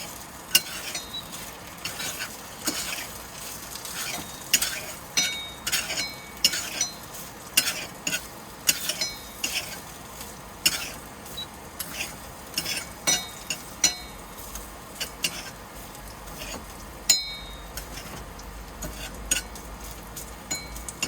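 Scrambled eggs are cooked inside a Troopy, with a spoon or spatula repeatedly scraping and clinking in a pan over a faint sizzle, in an irregular close stirring rhythm without talk.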